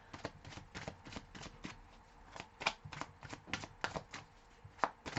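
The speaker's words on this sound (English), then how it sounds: "Let's just pull 2 more cards and get an idea." Tarot cards are shuffled in a rapid, steady riffle of soft papery flicks and taps, close but quiet, with a few sharper slaps as cards are drawn.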